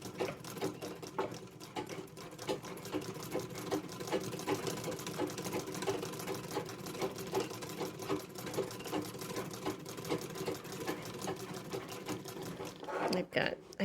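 A treadle-driven Singer 66 sewing machine stitching steadily, its rapid rhythmic clatter running continuously and close, with a brief slowdown and a clunk near the end and a person speaking over it at points.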